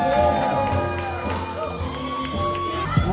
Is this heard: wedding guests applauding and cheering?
yes